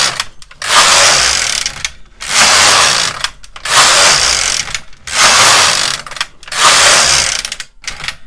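Carriage of a Brother KX350 or LK150 knitting machine pushed back and forth across waste yarn rows, loud close mechanical rattling strokes about a second long, repeated six times in an even rhythm with brief pauses between.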